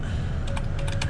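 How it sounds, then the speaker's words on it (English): Rapid mashing on a computer keyboard during a Prop Hunt game session, a close burst of quick irregular key clicks with no talk. "Yeah, I'm mashing on the keyboard, man."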